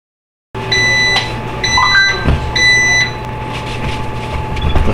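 Three loud electronic beeps in a steady sequence, each about a second long, from a nearby Breville Smart Oven Air countertop oven over a low background hum.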